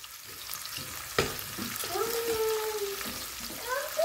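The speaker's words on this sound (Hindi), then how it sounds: "तो बस अनियन को हम करेंगे लाइट ब्राउन" Thinly sliced medium onion frying in a pan toward light brown gives a soft, steady sizzle with a sharp stirring clack early on, while a faint voice comes and goes underneath.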